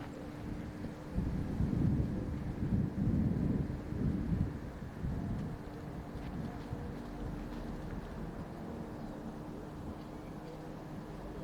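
Strong headwind gusting across an open disc golf course during a tournament round, a loud low rumble of wind buffeting the microphone in several heavy gusts, then settling into a steadier roar.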